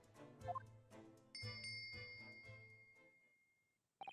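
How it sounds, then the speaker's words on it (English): A bell cord is pulled in a video game set in a cabin, ringing a bell in a few bright, resonant strikes that decay slowly, with a sharp final ding at the end. "It's a bell cord."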